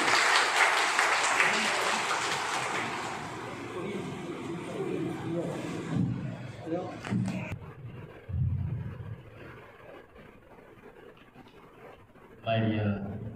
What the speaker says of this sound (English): Can we have a big clap for our principal?